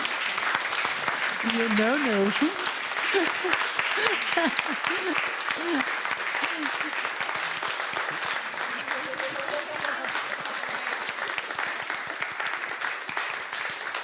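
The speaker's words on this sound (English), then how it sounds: "to give them a big round of applause" Sustained audience applause at a human rights conference in Copenhagen, dense steady clapping throughout with a voice speaking over the start.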